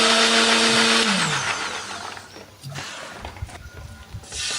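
A blender grinds shallots, candlenut and turmeric with a little water into a spice paste, roaring loudly before its motor pitch drops and the whir fades into a rougher, lower churning.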